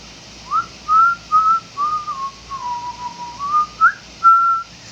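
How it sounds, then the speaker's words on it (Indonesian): A lone person whistles a slow, wavering melody at night, close and clear, with phrases rising and falling against a quiet background. "Katanya nggak boleh siul malam-malam ya guys."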